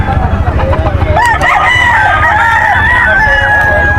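Gamefowl roosters crow at a bird market in Bocaue, Bulacan, one loud close drawn-out crow over a rough, clucking background with faint voices nearby.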